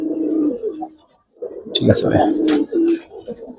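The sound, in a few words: Giribaz pigeons cooing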